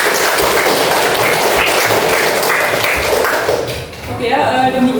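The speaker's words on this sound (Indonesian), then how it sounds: "tepuk tangan" Students in a class clap their hands, a loud, dense wash of close applause that fades out toward the end, where a voice begins speaking.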